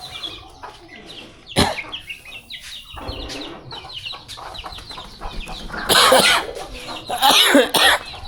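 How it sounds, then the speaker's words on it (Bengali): Pet pigeons kept at home make scattered bird calls and flutters, with a sharp cough early on and louder bursts of activity near the end. "তো দর্শক দেখলেন তো আমাদের কবুতরগুলো।"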